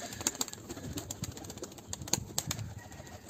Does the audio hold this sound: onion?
no